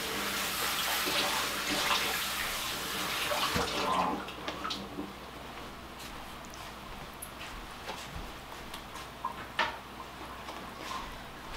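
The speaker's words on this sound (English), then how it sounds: "So I'm going to go ahead and rinse this." Tap water rinsing sprouting fodder seeds in a kitchen, a strong rushing stream for about four seconds, then shuts off, leaving faint drips and small clatters, close by with no talking.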